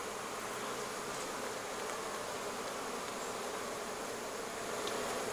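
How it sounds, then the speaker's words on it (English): Honeybees buzz inside an opened beehive during winter preparation, a dense, steady, close-up hum that continues evenly with no voices. "I've got some bees that do not want me in here."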